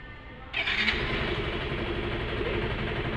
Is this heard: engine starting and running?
yes